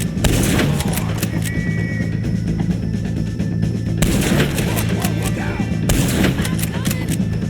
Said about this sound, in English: Take a shot on these O'Driscolls.